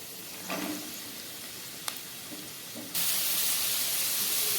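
Onion, garlic and carrot frying on a low flame for egg vegetable pasta, giving a soft steady sizzle and hiss that grows noticeably louder partway through, faint and even, with no voices.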